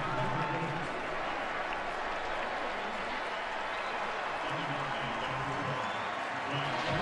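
A home crowd at a 2012 USC college football game against Oregon applauds and cheers after a 28-yard gain, a dense, steady roar of clapping and voices filling the stadium for several seconds.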